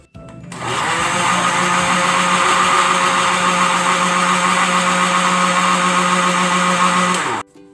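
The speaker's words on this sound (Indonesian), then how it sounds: "Dimasukkan pepaya muda ke dalam blender." A kitchen blender runs steadily for about seven seconds as it purees young papaya with water, giving a loud, continuous whirring motor drone that starts and stops abruptly with no talking.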